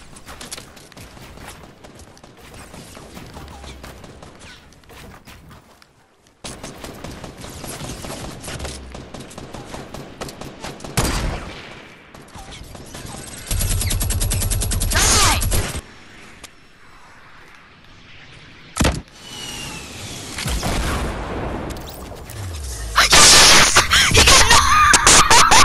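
Gunfire in a video game, bursts of rapid shots and fusillades coming in waves with loud sharp cracks and mechanical clatter, louder toward the end.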